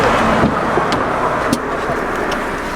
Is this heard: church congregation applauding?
no